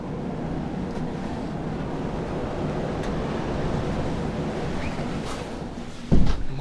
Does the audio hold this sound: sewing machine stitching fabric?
no